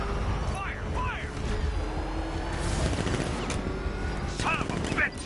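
Dense, sustained gunfire from a Batman video game, a busy wash of shots and clatter running the whole time under game voices and effects.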